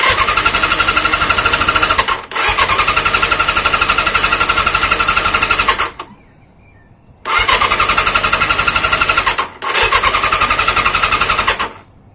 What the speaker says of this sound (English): getting the odd backfire out the exhaust